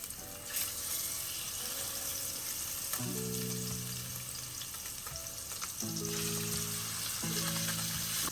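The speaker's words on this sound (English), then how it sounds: "You get that nice sizzle when it goes in the pan." Blackened salmon sizzling loudly in a frying pan, a constant hiss with a few brief sounds that stand out over it.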